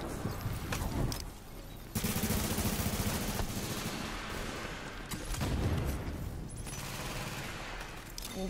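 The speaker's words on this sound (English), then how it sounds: "It's a turret that's messing everything up." An automated turret in Tom Clancy's The Division video game lets off rapid bursts of gunfire, loud and close, broken by short gaps, with further shots and blasts piling up over a rumbling background.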